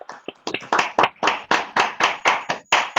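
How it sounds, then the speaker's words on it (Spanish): An audience claps after a talk on the James Webb Space Telescope, a quick run of about a dozen distinct, close hand claps in an uneven rhythm, no voices. "ese aplauso, Gracias, por favor."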